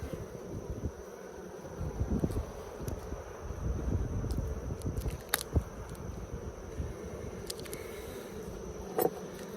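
Honeybees hum softly and steadily around an open Layens hive during a summer inspection, with a low buzzing drone, faint wind and occasional close passes of individual bees.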